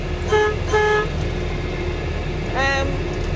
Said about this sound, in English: I've got air horns fitted to this at the minute.